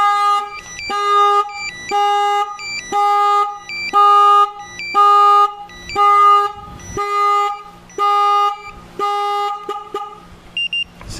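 A Chevy Silverado's aftermarket car alarm blares loud, close, rhythmic horn-like honks in even on-off pulses, about ten in a row, before stopping.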